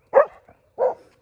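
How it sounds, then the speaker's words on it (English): A neighbour's farm dog gives two loud, deep barks about half a second apart, close by and alone. "That's a good dog right there."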